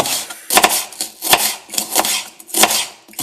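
An onion being cut up for tartiflette gives about six sharp, evenly spaced knife chops, close and loud, with short gaps between each stroke.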